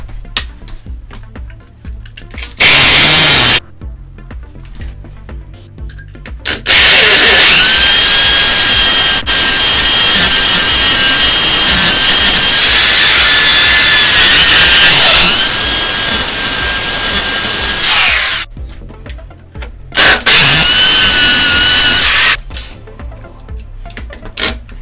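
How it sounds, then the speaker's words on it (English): A hammer drill bores holes for toilet flange anchors in two loud, close bursts, a long steady grinding run of about twelve seconds and a shorter one, with a brief rev before and quieter pauses between. "Now you're going to see how this one works it."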